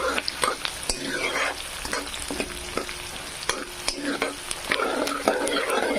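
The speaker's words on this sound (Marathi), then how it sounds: "कांदा छानपैकी फ्राय होत आहे" Chopped onion sizzles and fries in a pan for veg pulao, with intermittent scraping and stirring clicks of a spatula over a steady crackle.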